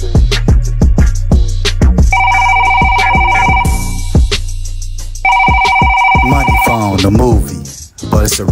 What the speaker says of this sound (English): My manager helping the phone ring, and you hear it ring.